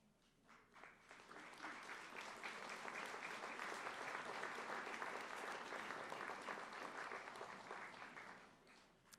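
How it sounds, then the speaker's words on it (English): Graduates at a Northwest State Community College fall 2019 commencement applaud their families, a broad wave of clapping that swells quickly, holds steady and fades near the end, heard from a distance in a large hall. "applaud the family members with you here tonight who have helped you on your journey"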